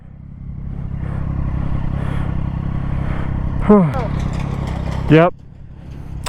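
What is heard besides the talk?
Yamaha R1 motorcycle engine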